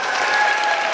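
Audience applause at a beauty-product roadshow event, dense, loud, continuous clapping filling the whole short moment.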